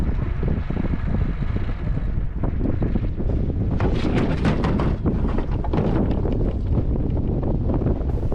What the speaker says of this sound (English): the wind's blowing pretty good right now